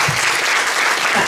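An audience at a TEDx-style community talk claps loudly and continuously, a dense wash of many hands close by with no pauses.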